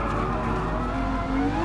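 Tyres squeal from the most powerful Ferrari race car in Gran Turismo Sport as it slides through corners, with a tonal screech rising over a constant engine roar. The sound stays loud and continuous.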